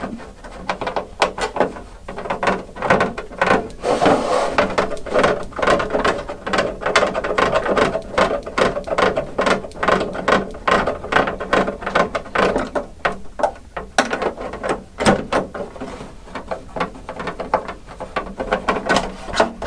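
A socket ratchet snugging screws on a Traxxas X-Maxx RC car body clicks in rapid, steady bursts at close range, the dense pawl ratcheting running almost continuously with brief pauses, with faint cooing birds behind.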